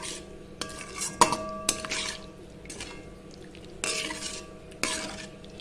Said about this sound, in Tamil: இப்போ சேர்த்துட்டு நல்லா கலந்து விட்டுடலாம்